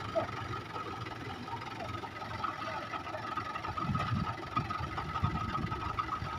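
Steady mid-pitched drone of a tractor engine running while stuck in mud, a continuous chugging rumble at moderate distance with slight swells, fairly even throughout.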